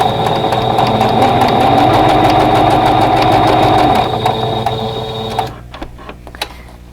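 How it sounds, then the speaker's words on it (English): Sewing machine stitching a quilt block seam, a loud steady motor whir with rapid needle ticking for about five seconds, then stopping and leaving a few scattered clicks. "And now we're ready to stitch that seam."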